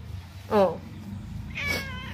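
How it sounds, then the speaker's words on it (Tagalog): A pregnant stray cat meows twice, close and clear, with a short gap between the two calls over a quiet background hum. "Nagkaroon ako ng pusa ng hindi oras ng alaga"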